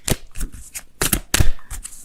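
Abundance oracle cards for a tarot reading are shuffled by hand close up, giving loud, rapid riffling bursts with brief slaps in between, and no talk.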